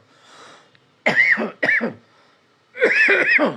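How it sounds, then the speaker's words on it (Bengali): A man coughing hard in a few harsh bursts, first a double cough and then a longer rough fit after a short pause, close and loud with a faint murmur before. "কাশি উঠে গেছে আমার"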